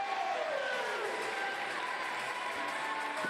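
A large crowd at the Bordeaux Starperche indoor pole vault meeting roars steadily, a sustained, fairly distant wash of cheering that holds throughout.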